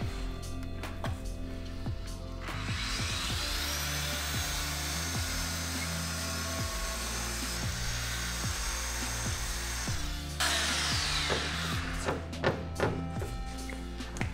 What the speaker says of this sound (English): anytime you take a sander to it, it comes off pretty fast